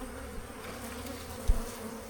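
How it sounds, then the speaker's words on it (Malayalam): Honeybees buzz steadily as a swarm settles into a hive box during a hive capture, a continuous low insect drone with one brief thump partway through and no voices. "ഇപ്പോൾ എല്ലാ ഈച്ചയും അതിൻ്റെ അകത്ത് കയറിയിട്ടുണ്ട് കേട്ടോ."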